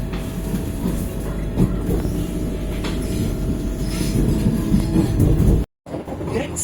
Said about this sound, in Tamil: போஸ்ட் ஹரித்வார் பார்த்தீங்கன்னா 110 க்ரூஸ் பண்ணிட்டு போயிட்டுருக்கு ட்ரெயின்